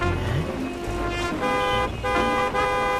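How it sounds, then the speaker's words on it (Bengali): A cartoon car horn toots repeatedly in a traffic jam, bright sustained honks over a busy layered soundtrack, loud and continuous across the whole stretch without spoken words. "ওকে দেখো পিছনে বসে হর্ন বাজাচ্ছে"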